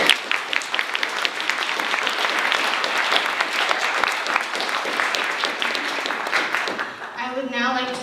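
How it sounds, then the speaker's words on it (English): A large audience applauds at a university weekend celebration, a dense, sustained round of clapping for about seven seconds that fades near the end as a voice begins speaking. "So give yourselves a round of applause."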